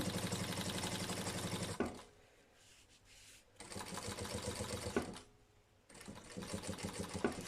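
A sewing machine with a standard presser foot stitches a seam right along the edge of a lunch bag, running in three loud rapid bursts of rhythmic clatter separated by quieter pauses.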